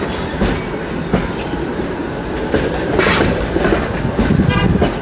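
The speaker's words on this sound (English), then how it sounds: "So this streetcar started pretty much at the start of green" A TTC streetcar rolls through the Spadina and College intersection in Toronto, a loud, close rumble of rail noise with wheel squeal and clattering wheels over track joints throughout.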